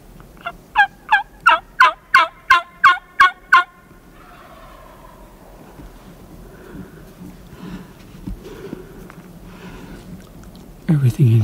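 A wild turkey gobbles from down below a hillside, a rapid run of about eight loud, clipped calls in quick rhythm, followed by quiet rustling and faint movement near the listener.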